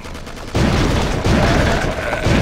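Machine gun fire in the shooter Will Rock, a quieter rattle at first, then a loud sustained burst of rapid shots that continues, only briefly dipping, until the end.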